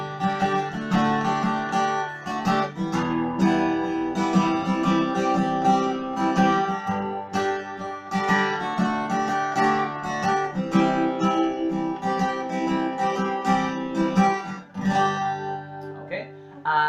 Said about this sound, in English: What I like to do when I'm strumming is I mess around with my pinky a little bit on some of the chords